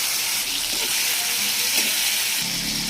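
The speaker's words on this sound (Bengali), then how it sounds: "প্রথমে চিংড়ি মাছগুলো ভেজে তুলে নেব" Prawns fry in mustard oil in a hot wok, giving a loud, continuous sizzle with a bright, steady hiss throughout.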